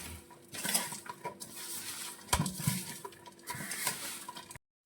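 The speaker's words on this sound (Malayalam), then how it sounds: "കുറച്ച് മഞ്ഞൾപ്പൊടി ലേശം ആവശ്യത്തിനുള്ള ഉപ്പും കൂടി ഇട്ട് നമ്മൾ ഇതൊന്ന് നന്നായിട്ട് മിക്സ് ചെയ്ത് യോജിപ്പിക്കണം" Sliced onion being mixed by hand or spoon with turmeric powder and salt for onion pakkoda, giving soft repeated squishing and scraping with occasional clinks against the bowl, steady and close, ending abruptly.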